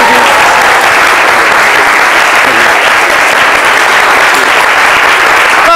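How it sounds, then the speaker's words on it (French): A television studio audience breaks into loud, continuous applause on a midday talk show set, a steady wash of clapping hands that holds at full strength throughout, with no voice on top. "Nous accompagnons avec les applaudissements."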